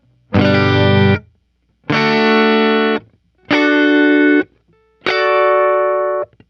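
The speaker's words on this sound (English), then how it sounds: "you can hear this really like tinny, brittle sound coming from the strings because the pick is just hitting it so hard" An electric guitar strums a chord four times with harsh, clipped attacks and each strum ringing about a second before stopping, sounding tinny and brittle because the pick strikes the strings far too hard.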